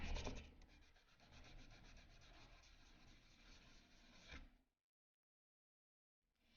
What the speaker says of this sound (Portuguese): Então, você vai lixando até sumir totalmente a marca.